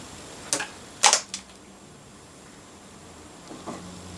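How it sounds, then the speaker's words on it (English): Two plugs and screws, left over from a removed trailing wall socket, are tossed onto the floor, giving a few sharp clicks and clatters in quick succession, then a pair of fainter taps a couple of seconds later in a quiet room. "I just threw those two plugs and screws on the floor instead of just aiming for the bin"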